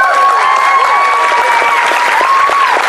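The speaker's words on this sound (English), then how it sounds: "Another big round of applause for our performers." A talent show audience at a furry convention breaks into loud, dense applause with scattered cheering, filling the hall continuously; a voice carries faintly over the clapping.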